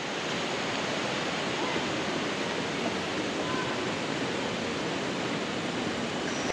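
A river flows near a hiking trail to Lata Makau waterfall by Kuala Kubu Bharu, a constant broadband rush of water with no pauses, close and loud throughout.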